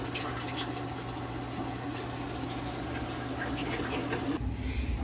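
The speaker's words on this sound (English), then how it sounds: "It's venting it right now to help the water get to a nice high level." Water venting and gushing through a boat's air conditioner sea chest, a constant close rushing and gurgling flow with a low pump hum beneath, shifting abruptly near the end.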